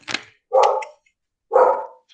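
A dog barks three times at close range, each bark loud and sharp with short silences between them and no voices over it.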